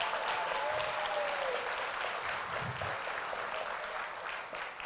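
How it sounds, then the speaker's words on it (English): Continuous audience applause for a sheriff's office Blazer Academy boys' graduating class, an even, fairly distant roar of clapping hands lasting the whole span, with faint voices mixed in. "One more round of applause for the graduating class"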